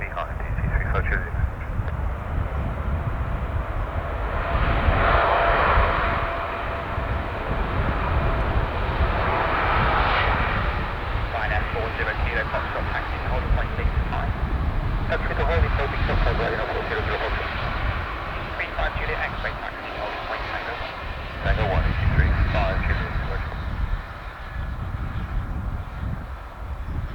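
Boeing 777-240ER engines of a Pakistan International Airlines jet at Manchester Airport roar steadily and loudly throughout, with air traffic control radio talk running over the engine noise.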